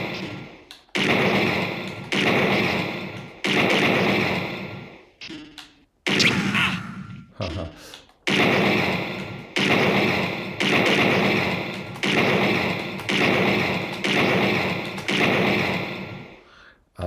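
Gunshots at the shooting range in the Sega Mega-CD video game Snatcher fire in a steady series of loud, evenly spaced bursts, each decaying before the next, with a few brief pauses.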